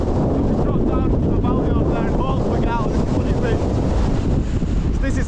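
Strong gusting wind buffets the microphone on an exposed mountain hike up Branstree, a loud continuous roar that stays steady and dense throughout with no clear speech.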